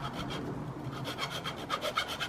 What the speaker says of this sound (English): We've drilled a couple of holes and now we're just sawing some of the...